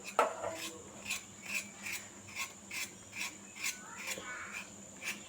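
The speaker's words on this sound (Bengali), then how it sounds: "এই ক্ষেত্রে আপনাকে অবশ্যই খোসাটা এভাবেই চেঁচে চেঁচে তুলে নিতে হবে" Peel being scraped off a pointed gourd (potol): a steady series of short, evenly spaced rasping strokes, close and fairly soft.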